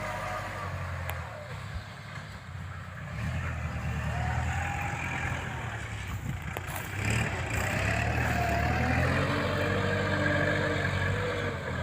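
A Kubota L5018 tractor plows a rice field, its diesel engine droning steadily nearby at moderate level and pulling a little harder partway through, with faint background sounds and no clear talking.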